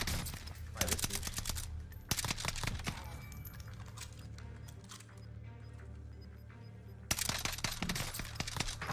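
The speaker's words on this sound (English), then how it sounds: "Is he single bursting it? I think so. He's like tap firing it" Rapid tapped gunfire bursts in Warzone Rebirth Island, dense clusters of sharp shots at the start and end with a quieter stretch of scattered fire and game noise between.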